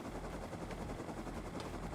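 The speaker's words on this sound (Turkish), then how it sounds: "Bir helikopter çakmış." A helicopter in a video game gives off a dense, steady rotor thrum with faint rhythmic chopping, heard throughout at low level with no voices.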